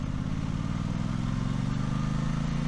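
A lightweight, faired Aprilia RS660 motorcycle ridden along the road toward Phu Chi Fa, its engine holding a steady, close drone with a low rumble and wind noise throughout, no voices.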